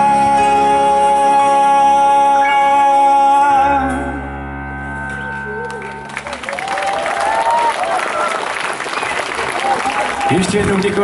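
Audience applause at an outdoor summer concert, rising after sustained music ends and continuing as steady, full clapping from a large crowd, with a voice briefly heard over it.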